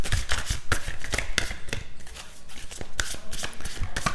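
Tarot cards are shuffled and pulled from the deck, a close run of crisp flicks and riffling snaps in quick irregular bursts with brief pauses, and no voice over it.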